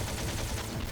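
Rapid gunfire from the video game Metal Gear Solid, a brief, loud, dense burst of overlapping shots with no pause.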